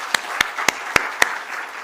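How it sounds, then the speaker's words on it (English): Five slow, evenly spaced single claps ring out over a quiet room at a company listing ceremony, one sharp crack roughly every quarter second before trailing off into faint background noise. "Why don't we give a round of applause to all of you?"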